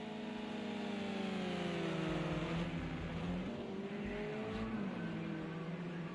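A touring car screams down the straight at Le Circuit Bugatti at over 120 mph, its engine a steady high whine with shifting pitch as gears change, continuous and fairly close.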